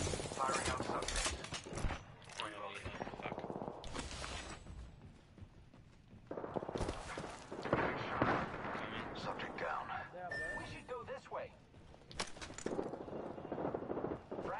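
Gunfire in a PS4 shooter video game: dense, repeated shots and bursts over about fifteen seconds, loud and continuous, with game voices mixed in.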